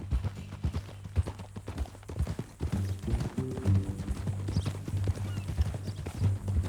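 Horse hooves clip-clop at a walking pace in Red Dead Redemption 2, a steady moderate rhythm heard over a low music bed.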